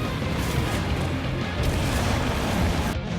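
A lava eruption blasts from the ground during a Monster Hunter Wilds hunt of the Jin Dahaad, a dense roaring rumble that stays heavy and continuous throughout, loud and broadband with no clear separate booms.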